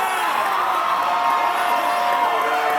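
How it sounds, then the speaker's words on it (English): A wrestling arena crowd cheers and roars in a steady, dense wash of voices with whoops rising out of it, loud and continuous throughout. "Listen to this crowd!"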